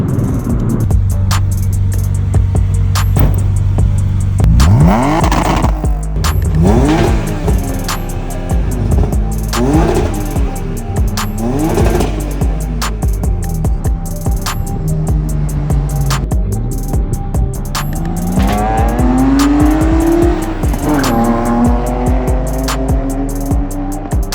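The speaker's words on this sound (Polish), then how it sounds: "on się bawi w dogrzewanie opon i dragi" A modified BMW revs hard again and again, its engine note rising and falling in loud sweeps while the tires spin and squeal, close up, with no talking.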